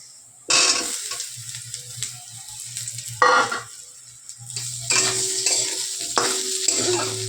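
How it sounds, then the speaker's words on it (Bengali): Potatoes frying with onion and cumin in a pan give off bursts of close, loud sizzling, rising and fading in separate waves as they are stirred, with quieter gaps between and no talking. "পেঁয়াজ আর জিরে ভাজছি এবার আলুটা দিয়ে দেবো"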